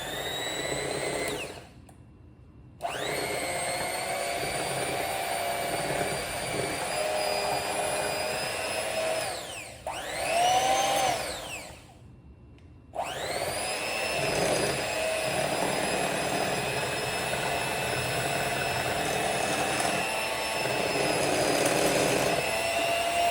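Peanut butter cookie dough being stirred for Grandma's cookies, heard as a steady, loud whirring drone that cuts out briefly twice and then resumes, with no talking.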